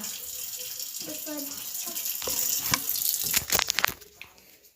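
Tap water runs into a sink during face washing, a soft flow that swells into closer splashing and gushing bursts before tapering off, with a voice faintly present.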